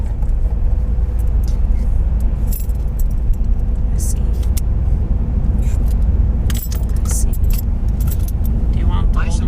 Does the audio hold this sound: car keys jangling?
yes